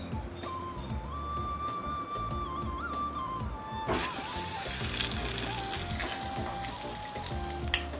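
Mango bajji fritters frying in hot oil, a steady close sizzle with running-water-like hiss that grows louder and brighter midway as batter pieces drop in, continuing alone without talk.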